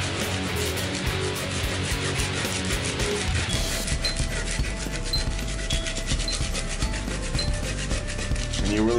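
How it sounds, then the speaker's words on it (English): A plastic scraper lifts softened, chemically soaked paint off an Ibanez electric guitar body, giving close, loud, continuous rough scratching and rasping strokes in quick succession, with slower, heavier scraping later on. No one speaks. "So this is a plastic scraper."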